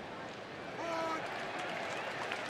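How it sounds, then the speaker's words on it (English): Sarcastic cheer from the crowd at a Cardinals at Brewers baseball game, a broad wash of crowd noise that swells briefly, with announcer talk faintly over it. "A sarcastic cheer from the crowd"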